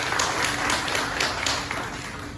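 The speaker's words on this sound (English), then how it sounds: "so one more round of applause for them and what they've done." Applause from a crowd at an open house for the laundry facility of the Leavenworth VA Medical Center: a steady, soft wash of many hands clapping, holding fairly even and easing slightly toward the end.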